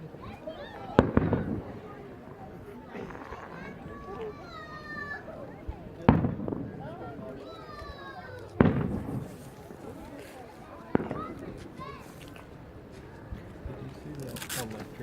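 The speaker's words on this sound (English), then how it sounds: "There we go, we're getting some fireworks going." Fireworks go off outdoors in several separate loud bangs spaced a few seconds apart, with whistling rockets rising between them and people chatting throughout.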